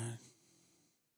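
A heavyset pet dog snores and wheezes in one brief, close, raspy breath that fades out within about a second.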